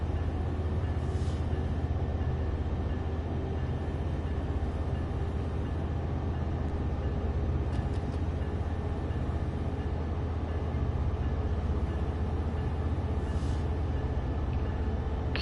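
A train keeps rolling with a steady, dense low rumble and rail noise. The sound stays constant throughout, with a few faint higher squeals or clicks at intervals and no voices.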